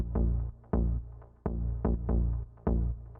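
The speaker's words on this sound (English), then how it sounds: "I created it using this basic organ bass, which you can find under the wavetable presets" Bass line played on a basic organ bass wavetable preset in Ableton, warm sustained low notes in a rhythmic house pattern with soft plucky attacks, loud and clean.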